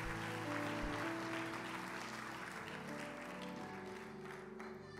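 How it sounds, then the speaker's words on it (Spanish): Church congregation clapping in praise, a dense steady wash of applause with sustained music or organ tones underneath, fairly quiet and continuous throughout. "dale un aplauso a Dios"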